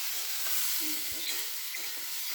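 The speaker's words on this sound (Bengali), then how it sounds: "আমার মাশরুমটা ভালো করে ভাজা হয়ে গেছে। সমস্ত যাচ্ছি মাশরুম পেঁয়াজ" Mushrooms and onions fry in a pan with a steady, close sizzle, broken by a few soft scrapes and knocks from stirring.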